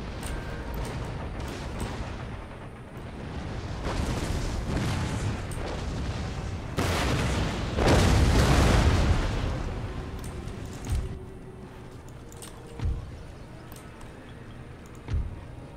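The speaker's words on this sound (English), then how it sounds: "The mortars are up and going." Mortar and artillery fire in Empire: Total War during a Russia campaign battle, rumbling booms swelling into a heavy roar, followed by a few scattered distant thuds.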